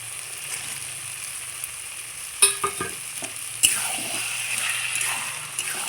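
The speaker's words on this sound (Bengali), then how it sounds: "ছোলা আর আলু মশলার সাথে খুব সুন্দর করে আমি কষিয়ে নেব" Chickpeas and fried potatoes being stirred and sautéed with spices in a pan, a soft steady sizzle under a few sharp clinks and scrapes of a spoon against the pan midway.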